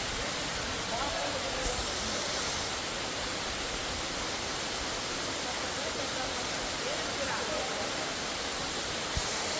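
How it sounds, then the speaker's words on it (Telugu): Waterfall in Chikkamagaluru, a steady loud broadband roar of falling water that holds unchanged throughout, with faint voices over it. "look at this waterfalls"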